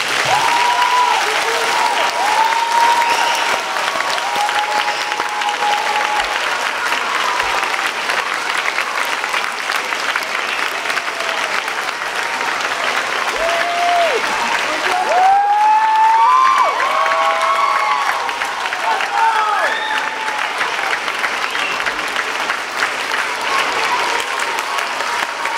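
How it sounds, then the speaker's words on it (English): An audience at Highview Elementary School's 2019 Maypole assembly claps for a retiring teacher. The applause is loud and sustained, filling the whole stretch, with scattered whistles and cheers rising through it midway. "So if we can give Mr. Roberts one more Highview round of applause."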